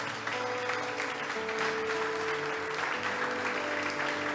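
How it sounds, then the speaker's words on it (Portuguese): Sustained applause from a church congregation, dense and steady throughout, with a faint tonal hum underneath. "Dê uma salva de palmas para Jesus"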